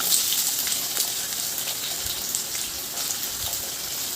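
Chopped onions and green chillies sizzle steadily in hot oil in a pan, a continuous bright hiss with faint crackles throughout and no voices.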